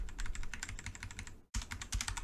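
Rapid typing on a computer keyboard while programming a PLC, a dense run of crisp key clicks with a short pause midway before the tapping resumes, close and steady.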